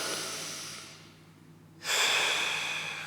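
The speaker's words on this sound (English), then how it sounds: "One more, nice long big breath." A long, deep breath during a yoga spine-health session: a steady, airy inhale tapers off, then a short quiet gap gives way to a louder, fuller exhale close to the mic.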